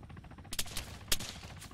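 Gunfire in the Arma 3 video game, a quick burst of several sharp shots with uneven spacing, two louder cracks standing out, heard at a modest distance over a low background, no talking.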